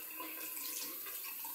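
Lukewarm tap water running steadily into a bathroom sink while makeup brushes are washed, a soft continuous hiss with no voices.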